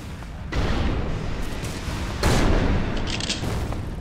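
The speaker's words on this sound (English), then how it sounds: "At that legendary Widowmaker is really, really nice grenade launcher because of the burst mode" The legendary Widowmaker grenade launcher in ELEX fires in burst mode, loud booming blasts in quick succession over a continuous rumble, with two sharp onsets and a scatter of smaller bangs after.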